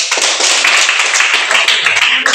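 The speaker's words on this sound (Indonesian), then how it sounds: "Tepuk tangan untuk Dirli." A classroom of students claps together for a classmate, a dense, fast patter of many hands held at steady loudness for a couple of seconds, with no talk over it.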